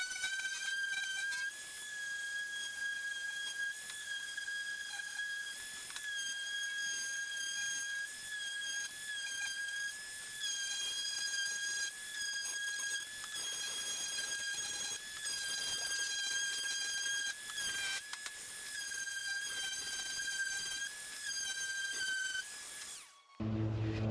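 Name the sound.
sanding wood pieces with 220 sandpaper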